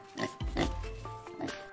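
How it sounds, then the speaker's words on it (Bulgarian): A cartoon pig oinks as a sound effect in a children's story, a few short grunting snorts in quick succession, close and fairly quiet, with no voice over them. "семейство малки игриви прасенца"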